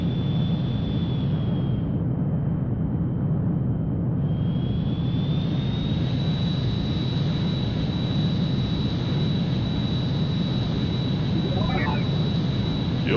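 Jet aircraft engine in Ace Combat 3, a loud continuous roar with a steady high whine that dips briefly and then rises again, sustained throughout.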